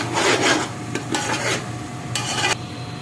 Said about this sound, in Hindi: तो ये इसकी अब हम अच्छे तरीके से इसको भून लेंगे